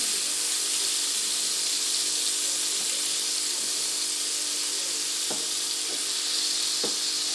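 Butter sizzles in a pan on a gas stove, a steady dense hiss held at even loudness throughout, with a few faint clicks near the end and no voices.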